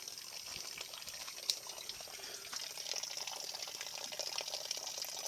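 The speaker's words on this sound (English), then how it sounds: "as the water's dumping into the system, we've had to drill a hole." Water pours and trickles steadily into an aquaponic system on a farm in Cambodia, a soft, continuous splashing flow heard from nearby and alone.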